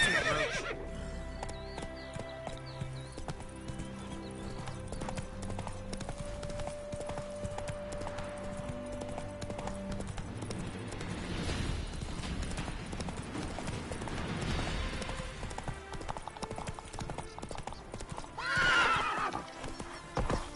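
Roach, the horse in The Witcher 3, gallops with steady rhythmic hoof clip-clops and lets out a neigh, set against a quiet game music bed.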